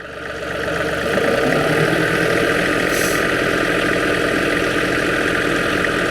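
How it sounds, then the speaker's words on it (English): A 2022 John Deere 3038E compact tractor engine runs at low idle, a steady close mechanical rumble that holds constant throughout with no talking. "right here, we're just at a low idle"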